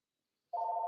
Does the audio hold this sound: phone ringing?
yes